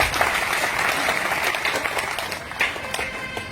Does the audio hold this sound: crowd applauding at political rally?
yes